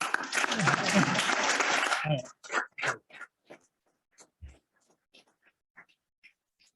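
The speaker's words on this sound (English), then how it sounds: "And another round of applause." Guests at a CFA Orange County annual charter recognition dinner give a round of loud, full applause for about two seconds, then it breaks into a few scattered, isolated claps before going quiet.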